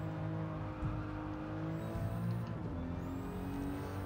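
A Toyota Supra races through Gran Turismo 7 on Tokyo Expressway, its engine droning steadily at high revs with shifting pitch sweeps, fairly quiet and continuous with no talk.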